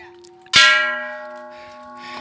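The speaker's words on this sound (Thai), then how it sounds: "ลั่นระฆังให้ครบทุกวันนะครับ" A single strike on a large metal temple bell at Wat Phra Chai in Saraburi, with a sharp clang followed by a long, steady ringing hum that slowly fades.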